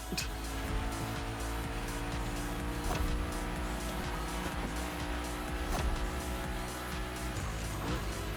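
A tuned car drifts and skids in a racing video game, with a steady engine drone and tire squeal sustained throughout at moderate level and no speech.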